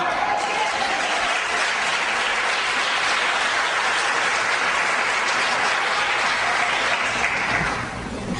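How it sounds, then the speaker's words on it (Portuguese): Sustained applause from a large church congregation during a Portuguese-language testimony, a dense continuous roar of clapping that holds steady for several seconds before fading slightly at the end, with no speech on top. "Aplauda Jesus."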